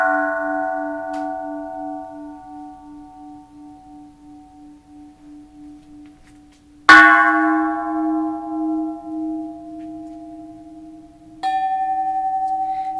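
A bronze Japanese Buddhist temple bell is struck twice, each hit a loud close clang followed by a long humming resonance that slowly pulses and decays, with a lighter tap near the end.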